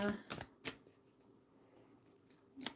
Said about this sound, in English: I'm giving them a shuffle.